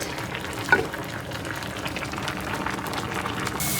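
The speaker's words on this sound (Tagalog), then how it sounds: "Gisa na tayo ng sauce. Naglagay ako ng sesame oil." Sauce sautéing in zero-cholesterol sesame oil in a pan, a steady soft sizzle with stirring, moderately loud and continuous throughout, with a brief clink near the start.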